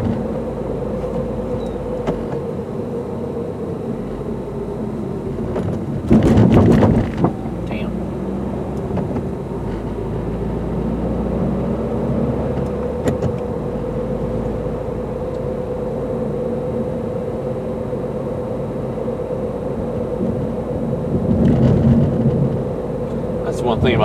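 A 2015 Subaru WRX on winter roads, engine droning steadily inside the cabin as it pulls through the gears, with a few brief louder bursts, under and between someone talking.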